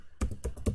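Typing on a computer keyboard in quick succession, about five or six close, crisp key taps after a short silence, with no voices.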